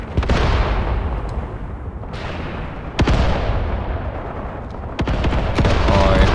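Mortar and artillery fire in the war game Graviteam Tactics, with loud booming detonations at roughly one-second spacing, each leaving a long rumbling decay, and the sound stays dense throughout.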